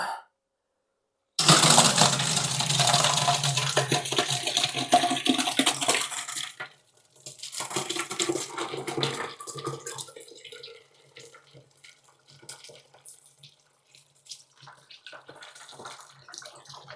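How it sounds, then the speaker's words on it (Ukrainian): Homemade white wine pours from a bucket into a hopper, a close, loud gushing stream of liquid that tapers into splashing, trickling and scattered drips as the flow slows. "Тепер спробуємо акуратно, максимально Акуратно, ефективно перелити."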